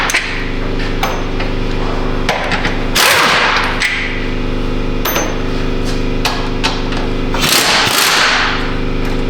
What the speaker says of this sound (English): Now we're gonna crack these 18mm headed bolts loose here.